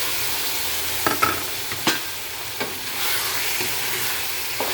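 Chicken pieces sizzling in a hot pan for chicken tinola, a bright continuous frying hiss with several sharp stirring scrapes and knocks, close and fairly loud, no voices.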